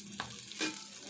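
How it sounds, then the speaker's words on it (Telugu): Curry leaves and fenugreek leaves fry in hot oil in a pan, a faint soft sizzle broken by two brief stirring scrapes, with no talking. "కరివేపాకు వేసుకోవాలి, మెంతి కూర కూడా వేసుకోవాలి. ఇవన్నీ కూడా నూనెలనే వేగాలి,"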